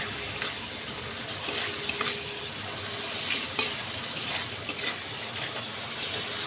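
Poppy seed paste cooks with pabda fish in hot oil, giving a steady close sizzle broken by scraping stirs and a few sharper spatula knocks against the pan.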